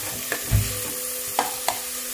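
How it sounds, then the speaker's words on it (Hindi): Finely chopped onions frying over high flame for a soya mutton curry give a soft steady sizzle, with a few sharp stirring knocks and a low thump near the start, close and fairly quiet. "अब ये प्याज फ्राई होने लग गया है।"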